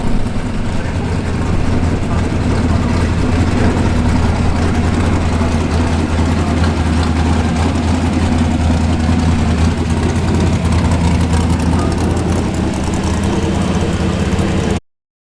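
A Porsche 356 engine idles steadily at a historic race meeting, a constant low rumble that runs close and loud throughout with no speech.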